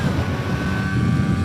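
Vespa GS150 scooter fitted with a SIP performance tuning kit, its engine revving in a steady, loud drone mixed with wind buffeting the microphone.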